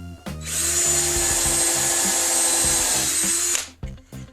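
A power drill driving a headless nail as a bit to bore a pilot hole in Brazilian cherry hardwood runs in one long steady whine for about three seconds, close and loud, with a few brief revs before and after.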